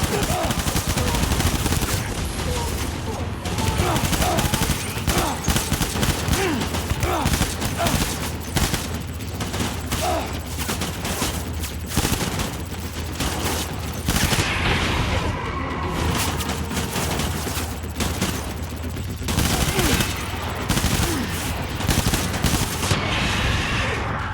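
Gunfire from the video game Death Stranding, sustained rapid bursts of shots and booms layered over loud game sound and music, with voices coming in and out.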